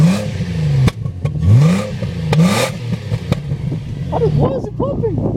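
A modified JDM car's engine revving in sharp rising bursts with crackling exhaust pops, heard close over excited voices talking and laughing.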